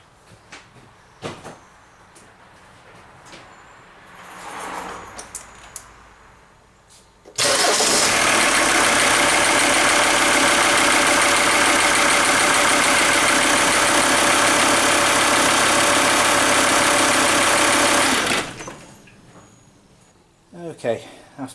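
A Volvo D5252T 2.5-litre five-cylinder turbodiesel cranks and fires, then idles steadily and loudly for about ten seconds before being switched off, with a few quiet clicks and knocks before and after.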